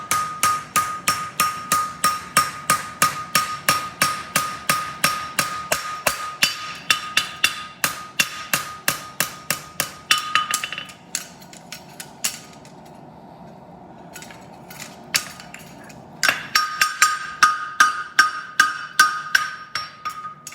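Rapid, ringing hammer blows on a metal egg bar horseshoe, a steady rhythmic series with a brief pause midway before the striking resumes, close and loud.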